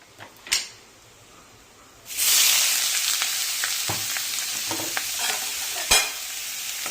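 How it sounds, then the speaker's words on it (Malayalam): After a quiet start with a single clack, crushed spice paste hits a pan of mustard seeds and curry leaves, bursting into a loud, sustained sizzle with intermittent stirring taps and scrapes; no talking. "ചതച്ച് വെച്ചിരിക്കുന്ന അരക്കൂടെ ചേർത്ത് ഒന്ന് വഴറ്റിയെടുക്കാം"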